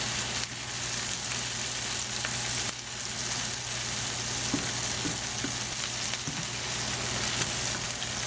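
Ginger and garlic sizzle steadily in hot oil as they are stir-fried, a continuous close crackle with occasional scrapes of stirring.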